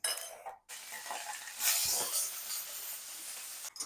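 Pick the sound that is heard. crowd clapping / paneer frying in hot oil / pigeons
paneer frying in hot oil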